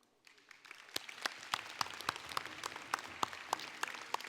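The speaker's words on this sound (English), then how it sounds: "please give a round of applause for the Police Honor Guard" An awards ceremony audience applauds the Police Honor Guard, starting softly and quickly swelling into steady, crowded clapping with a few sharper, closer claps standing out above the rest.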